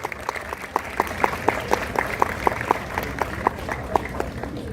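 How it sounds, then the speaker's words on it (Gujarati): An audience at a national homoeopathic summit in Vadodara claps in a steady, moderately close round of applause, individual claps distinct and evenly paced. "તાળીઓથી વધાવી લઈશું."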